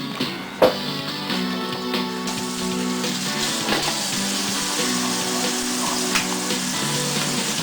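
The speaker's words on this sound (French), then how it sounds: "Il faut que je me lave les mains." Hands washed under running tap water, a continuous close hiss of flowing water with a few small knocks and splashes.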